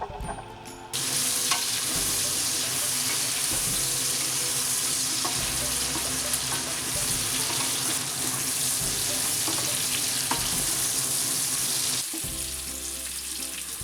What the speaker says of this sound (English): in the same oil, add the diced pumpkin and potatoes.